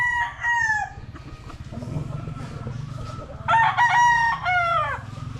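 A gray gamefowl stag crows twice on a farm, one short call followed by a longer drawn-out crow, fairly close over a steady low background hum.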